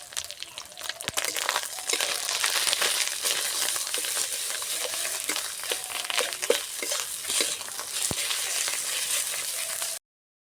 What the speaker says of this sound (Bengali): মাছের ডিমগুলো ভাজা হতে থাক,